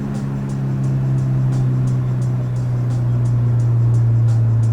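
A Subaru STI fitted with PERRIN engine mounts cruises with a steady low engine drone inside the cabin and smooth, barely noticeable gear changes.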